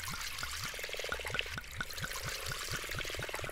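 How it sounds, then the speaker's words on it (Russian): Fuel pouring from a can in the game Darkwood: rhythmic glugging pulses, roughly a dozen evenly spaced gulps, with a light bubbling trickle between them, fairly quiet and close, no talking. "Такой звук наливания классный."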